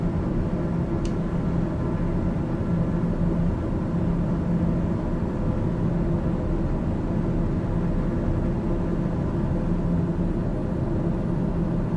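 A TBM 930 turboprop in cruise in Microsoft Flight Simulator 2020, a steady, even engine drone with broad airy rush and a low hum that holds unchanged throughout, with no talk.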